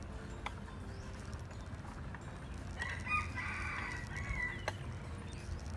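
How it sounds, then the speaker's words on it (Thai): Morning outdoors in Ubon Ratchathani, Thailand: a rooster crows a few times at a moderate distance over a steady low background rumble, with a few sharp clicks. "มีเสียงไก่ร้องเอ้ยไก่ขันด้วย"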